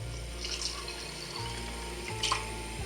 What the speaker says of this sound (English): now to add the rest of our ingredients. So we have some beef broth,